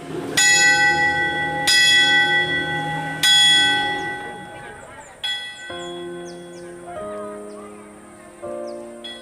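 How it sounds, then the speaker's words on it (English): A church bell at the Ernabella mission rings in several loud, resonant strikes that decay slowly, followed by lower, softer tolls, with no voices over it. "then the bell was ready to ring."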